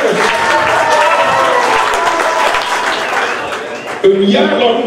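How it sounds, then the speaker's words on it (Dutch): Crowd applause at a youth carnival prince election for three contestants, a loud continuous wash of clapping with voices mixed in, ending as a single voice rises over it near the close. "Dus applaus voor deze drie deelnemers."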